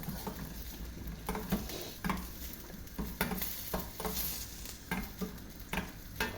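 Chopped onion fries in a pan for a vegetable dal, a close, steady sizzle broken by repeated stirring scrapes and soft clunks of a spoon against the pan.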